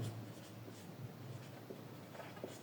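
Pen or chalk writing on paper during a Bengali trigonometry lesson for higher-secondary students, a soft continuous scratching that runs steadily for about three seconds, faint and close, with no talk over it.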